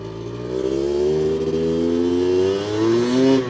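A Honda 250R motorcycle engine with a fresh top end holds a steady quarter-to-half-throttle drone, close and fairly loud, its pitch gently rising and falling as it picks back up.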